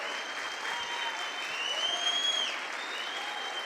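A church congregation applauding during a sermon on Psalm 91, with steady, dense clapping throughout at a moderate level and a faint tonal ringing above it.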